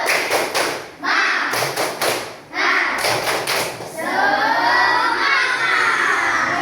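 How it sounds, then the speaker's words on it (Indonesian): Fifth-grade pupils in a classroom perform a spirited clapping chant, with short rhythmic bursts of group claps and thumps separated by brief pauses, followed by children shouting together loudly in unison. "Tepuk semangat"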